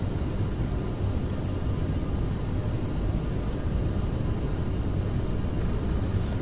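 CRJ700 jet engines roar steadily on takeoff in Microsoft Flight Simulator 2020, a dense continuous rumble with no talk.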